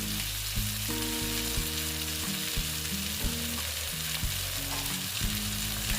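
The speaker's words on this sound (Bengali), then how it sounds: "চিনি দিয়ে আবার কষিয়ে নিচ্ছি" Ash gourd with sugar sautéing in a pan gives a steady, close sizzle, broken by a few sharp spatula scrapes and knocks, over a sustained tonal backing.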